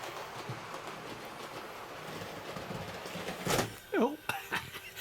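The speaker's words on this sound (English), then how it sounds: "Really is really smooth, real smooth running train" A model train runs around its track with a soft continuous rumble and faint clicking, then a few louder clacks and knocks near the end, with a voice briefly heard.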